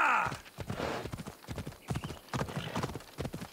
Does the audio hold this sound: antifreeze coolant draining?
no